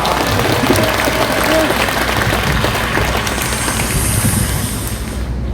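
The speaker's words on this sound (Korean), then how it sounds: "우리 다시 한번 박수하겠습니다" Large outdoor crowd at a united Sunday worship rally in Gwanghwamun, Seoul, clapping together in a loud, dense, sustained roar that fades slightly at the end.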